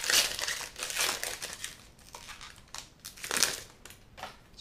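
Crinkling foil wrapper of a Double Masters trading card booster pack being torn open by hand, in a few loud crumpling bursts close to the mic, with no talk.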